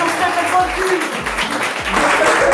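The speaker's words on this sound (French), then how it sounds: "on peut les applaudir très très fort aussi" Applause from a live audience at a hypnosis comedy show, a dense steady wash of clapping with a voice talking and low thumps underneath.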